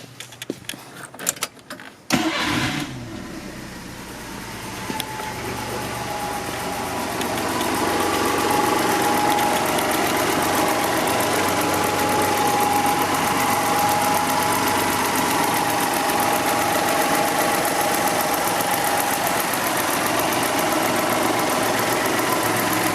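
A 1990 Mitsubishi Minica Dangan ZZ4 engine cranks with a burst of clatter, catches, and settles into a steady, close idle that rises slightly in level and then holds even, with a faint whine running through it.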